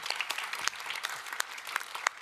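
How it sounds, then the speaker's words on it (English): A small audience at a youth concert claps after an improvised performance, scattered, individually distinct hand claps with a few sharper ones standing out, fairly close and lively. "So one more round of applause for basically an improv performance that was perfect."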